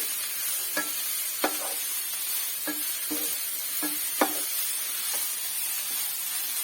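A spatula stirs chopped greens for a jackfruit-seed and spinach thoran in a pan, about eight distinct scraping strokes at a loose rhythm over a soft steady sizzle, close and moderately loud, with no talking.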